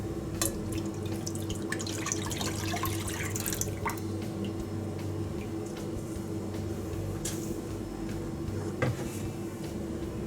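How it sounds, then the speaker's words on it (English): Half a kilo of milk is poured into an iron kadhai on a low gas flame, a faint, steady liquid trickle with a few small knocks, no voices. "So total half kg I have added milk."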